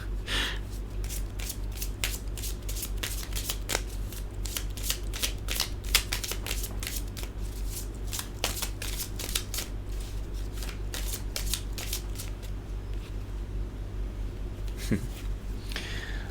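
A tarot deck is shuffled by hand, producing a long run of rapid papery riffles and flicks, close and steady, over a low constant hum, with a faint breath or voice near the end.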